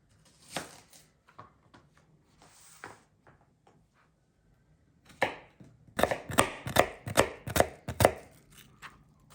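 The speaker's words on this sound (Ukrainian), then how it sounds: "Цибульку різимо мілким-мілким кубиком." Knife chopping fresh onion into fine cubes on a board, a few scattered taps and then a quick rhythmic run of six or seven crisp close chops, fairly quiet with pauses between.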